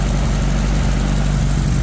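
A well pump engine labors under heavy load, a loud, steady low-pitched rumble with a constant throb and no pauses, close by and alone.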